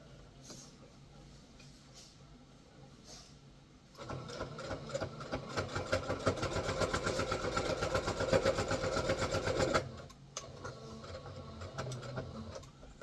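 A sewing machine stitching with shirring thread whirs in one steady run of several seconds, rapid needle strokes clearly pulsing, close by, with quieter handling before and after.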